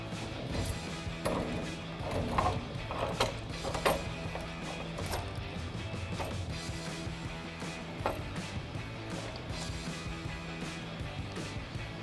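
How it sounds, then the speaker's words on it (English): A spring compressor is backed off a shock absorber coil spring during an Eibach Pro-Truck lift install. It gives close, irregular mechanical clicks, ratcheting and metallic knocks over faint workshop background. "Now we'll go ahead and decompress our spring so we can get our top hat out."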